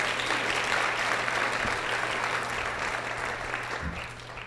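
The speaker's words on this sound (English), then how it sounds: "So let's give them a round of applause" Sustained applause from an audience at a city State of the City breakfast event, honoring the breakfast chefs; a steady, dense wash of clapping with a low background hum, fading slightly toward the end.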